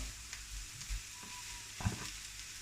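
Carrots and turnips sizzle and crackle steadily in a hot pan, with occasional clinks and stirring noises, close by and without talk.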